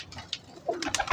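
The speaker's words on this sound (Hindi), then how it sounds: "ये 79 वाला क्रॉस है बेसिकली ये पिपलों वाले कबूतर हैं" Peepal pigeons of a 79 cross, high-flying birds, cooing softly nearby in a few short, soft calls over light background noise.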